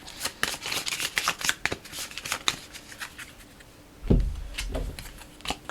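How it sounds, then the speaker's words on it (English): A deck of cards for the Dark Gothic card game is shuffled by hand, a quick series of crisp riffling flutters followed by a softer thump and a few shorter riffles, close and clear. "oh, we need to shuffle"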